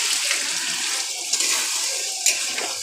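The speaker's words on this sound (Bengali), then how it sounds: "দেখো মাংসটা কষা হয়ে গেছে, এবার ঝোল দিয়ে দেবো" Broth pours steadily into a pot of braised meat curry, a continuous close watery splash and rush lasting a few seconds.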